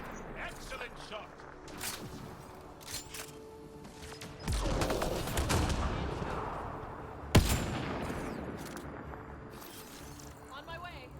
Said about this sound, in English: Do we all need to be shooting at each other?